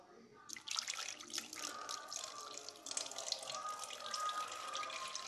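Water being poured into a thick coconut milk starter mix for homemade coconut yoghurt, a steady close splashing stream that starts abruptly and runs on evenly, faint overall, with no talk.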